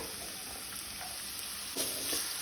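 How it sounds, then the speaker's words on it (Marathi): Finely chopped onion frying in a pan with ginger and garlic, a soft, even sizzling hiss throughout, faint and close, with a slightly louder crackle near the end and no voices. "कांदो बरो तळसून घेऊया।"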